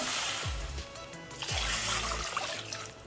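Water poured from a tumbler into a pot of vegetable soup, a soft splashing pour that comes in two short bursts, fairly quiet, with no talking.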